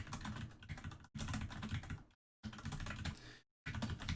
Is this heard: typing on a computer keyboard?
yes